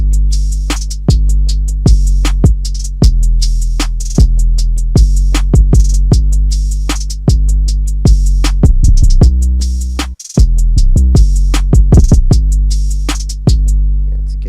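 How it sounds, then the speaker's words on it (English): Deep, booming 808 kick drums thump in a steady pattern with occasional quick rolls, loud and alone, with one brief dropout near the end. "And so the kick, it sounds like this."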